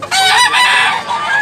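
A bullstag rooster at a market in Tabunok, Cebu gives one loud, close crow that lasts about a second and a half, bright and strained, with faint bustle behind it.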